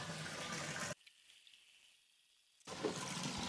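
Water rushes from a Maxspect Jump DC return pump through press-fit PVC plumbing in an aquarium setup, a strong steady gush that cuts out to near silence for a moment, then resumes just as loudly.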